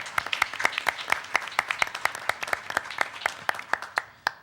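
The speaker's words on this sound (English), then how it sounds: "So how about another round of applause for Daniel?" A small crowd applauds steadily, many sharp claps in a dense rhythm close by, tapering off near the end with no voices.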